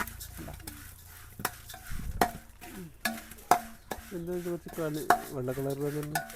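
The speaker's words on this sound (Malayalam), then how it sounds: "നെയ്യ് ഒഴിച്ച് കൊടുത്തപ്പോഴേക്കും ചട്ടി കുറച്ച് ചൂടായി ഇതൊന്ന് ഇളക്കി കൊടുക്കട്ടെ" Food being stirred in a hot pan with ghee, with scraping and clinking of a utensil against the pan in irregular strokes over a faint sizzle, some louder knocks, plus a brief tonal voice-like sound later.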